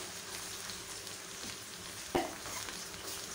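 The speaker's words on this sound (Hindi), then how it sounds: "अब इसको अच्छी तरह मिक्स करेंगे।" Chicken chow mein stirred in a frying pan, a soft, steady sizzle with faint scraping and one sharp clack of utensil on pan near the middle, fairly quiet and close with no talking.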